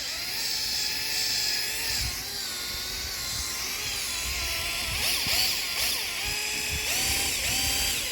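A drill spins a buffing pad with polishing compound on a plastic headlight of a 12-year-old Chevrolet Equinox, a continuous whirring whine whose pitch rises and falls as the speed changes, loud and close.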